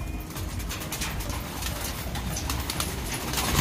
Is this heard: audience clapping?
no